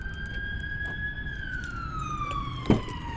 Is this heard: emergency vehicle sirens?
yes